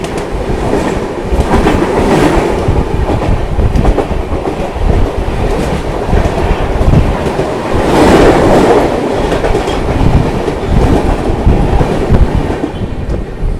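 Aronai Express passenger train rolling along the rails, a loud continuous rumble with rhythmic clickety-clack from the wheels, heard from inside the carriage with no voices.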